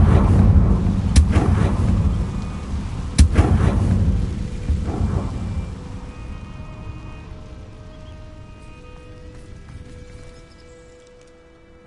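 Confringo blasting-spell explosions in Hogwarts Legacy: a few sharp, heavy booms in the first seconds, each followed by a rumbling tail, with tonal magical ringing lingering and fading out afterward.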